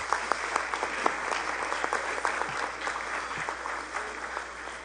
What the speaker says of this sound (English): I was waiting for the applause